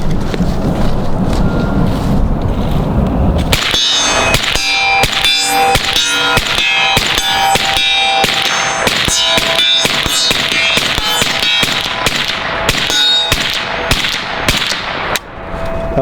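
Zastava rifle shots ringing off steel targets outdoors, a long run of sharp cracks and metallic clangs at an uneven pace, loud against wind noise on the microphone, with no talking.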